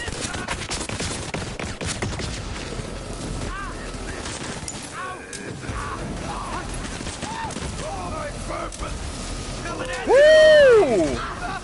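Video game gunfire in Borderlands 3 crackles in dense, rapid volleys throughout, with scattered impact and effect sounds and a voice talking over the shooting.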